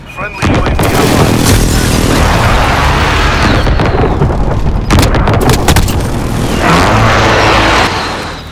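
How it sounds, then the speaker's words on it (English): Heavy blasts and rumbling explosions from an airstrike in Call of Duty: Modern Warfare online play, loud and close, with sharp bursts around the middle and a sustained booming roar before it tails off. "Enemy precision airstrike inbound."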